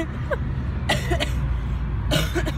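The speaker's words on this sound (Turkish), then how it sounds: "Hayır öksürürken çekmeyin." Two bursts of coughing, each a pair of quick harsh coughs, sound over a steady low engine-like rumble.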